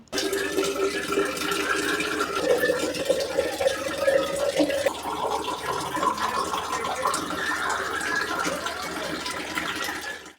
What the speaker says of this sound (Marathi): याच्यामध्ये ॲड करायचं आहे पाणी